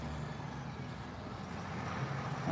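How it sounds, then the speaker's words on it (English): A colourful beer delivery truck drives past on Braunstone Lane, its engine a low rumble that builds steadily and grows louder toward the end amid busy road noise. "Colourful truck coming around."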